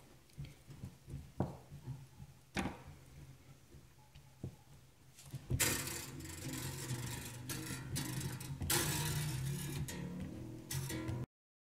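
Tuning peg on a Fender American Standard bass turned by hand during a restring, sparse faint ticks at first, then a denser steady run of quiet mechanical clicking and rubbing, close and alone.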